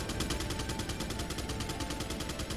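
Rapid automatic gunfire from a Resident Evil 4 firefight, dense and continuous bursts filling the whole stretch at steady loudness with no voices.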